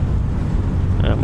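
Airliner reverse thrust roaring just after touchdown at LaGuardia in Microsoft Flight Simulator: a loud, steady, broadband rumble throughout, with a voice speaking over it.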